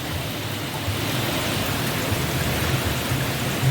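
Heavy rain pours down in a steady, dense hiss, loud and continuous with no talk, and a faint low rumble sits underneath.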